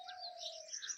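Sparrows and doves around a house in Uttarakhand give faint, distant chirps and short tweets, a few quick high calls over a quiet background.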